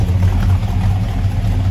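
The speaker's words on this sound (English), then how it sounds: "Let's just admire that exhaust rumble really quick." A 1956 Ford F100 truck idles with a deep, steady exhaust rumble, heard close and loud with no one talking.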